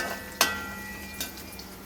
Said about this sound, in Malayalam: ഇത് കിടന്നൊന്ന് മൊരിഞ്ഞ് വരട്ടെ. ഇടയ്ക്കിടയ്ക്ക് ഇളക്കി കൊടുക്കണം.